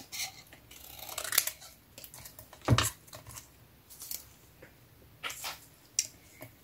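Scissors cutting several layers of paper autumn scrapbook embellishments at once, a close series of crisp snips and rustles with one louder, sharper cut in the middle, no talking.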